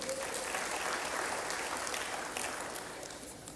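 Church congregation clapping together after a sermon point, a steady dense wash of applause that holds for several seconds and tapers slightly toward the end, fairly quiet and unaccompanied by speech.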